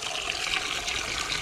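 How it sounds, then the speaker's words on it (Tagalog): Water spinach (kangkong) plants being watered in a home garden, a steady close trickle and splash of water running the whole time with no talk. "Diligan muna natin yung kangkong."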